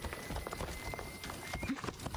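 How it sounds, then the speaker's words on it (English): Hooves clip-clop as a horse runs in Assassin's Creed Odyssey, a quick steady run of thuds close up lasting a couple of seconds, with a brief higher tone and faint game sounds behind. "Come on, horsey."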